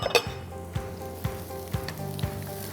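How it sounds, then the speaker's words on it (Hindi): Carrots and cabbage sauté in a hot pan, a continuous close sizzle punctuated by regular scraping stirs, with no talking. "हल्का सा सौटे कर दीजिएगा और फिर उसमें आप चावल डाल दीजिए।"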